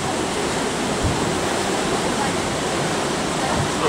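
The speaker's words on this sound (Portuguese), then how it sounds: "aqui agora tá subindo, enchendo de água para poder continuar na parte superior" Canal lock chamber in Strasbourg filling with water, a steady, loud, broadband rush of churning water that stays even and continuous throughout.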